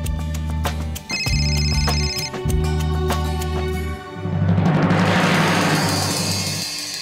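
A mobile phone's ringtone plays in repeated melodic bursts that cut off after about four seconds, followed by a rustling noise, with no talk.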